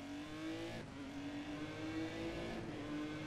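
Car engine roaring inside a tunnel in the racing video game GRID, a steady loud drone with a sustained tone that shifts slightly in pitch as the car holds speed.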